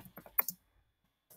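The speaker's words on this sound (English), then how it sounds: "I'm going to type grade" A few quick clicks of keys being typed on a computer keyboard, close and fairly quiet, clustered in a brief burst before near silence.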